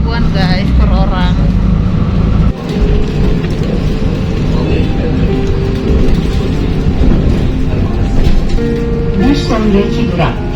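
Interior rumble of a city bus on route 99A through Istanbul, a loud steady engine drone with rattles and traffic, overlaid by voices and a recorded stop announcement.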